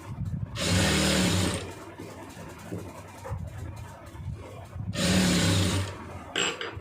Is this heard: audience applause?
no